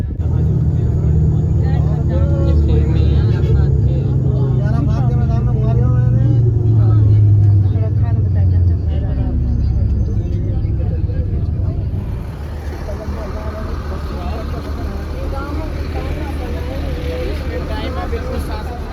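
A vehicle carrying pilgrims drives through Makkah, its engine and road noise forming a loud, steady rumble that eases somewhat partway through, while people talk inside.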